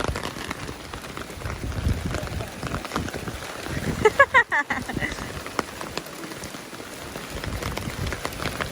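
Hard rain pours steadily during a rainy-day car wash, a dense hiss of drops on surfaces, with a brief voice partway through.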